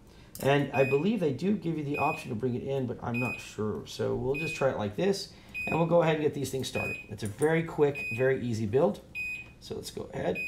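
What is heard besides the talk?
driveway alarm beeping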